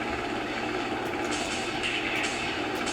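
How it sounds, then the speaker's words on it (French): A helicopter in the Virtua Cop 2 arcade shooter gives off a steady rotor and engine roar, with game effects flickering over it and no speech. "Voilà, il y a de l'action, un hélicoptère."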